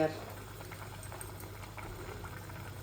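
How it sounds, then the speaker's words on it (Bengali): Pabda fish in mustard paste curry bubbling steadily in a pan after hot water is added, a continuous soft boil with low hum, a voice talking faintly over it. "গরম পানি দেওয়ার দরুন বলকা ইচ্ছে"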